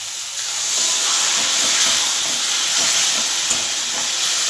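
Poppy seed paste water is poured into a pan of hot googly potatoes, producing a loud steady sizzling hiss that swells briefly and then carries on without talk.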